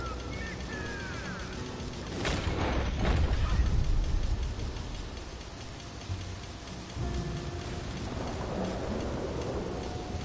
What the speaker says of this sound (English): Man, it's raining like it's Seattle.